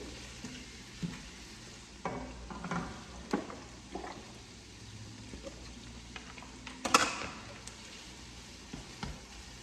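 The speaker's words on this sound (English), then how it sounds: "raw shrimps, I'm frying it with the onions." Shrimp and onions frying in a pan, a steady low sizzle broken by occasional stirring scrapes and clinks, with no talking.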